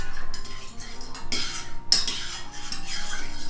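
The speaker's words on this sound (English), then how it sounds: "And then you will just stir it like that." Turmeric milk stirred in a pot with a spoon, giving soft repeated scraping and clinking against the metal, close and fairly quiet with a few sharper knocks.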